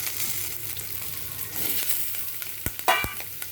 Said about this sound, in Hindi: अब हम डाल देंगे इसमें शिमला मिर्च।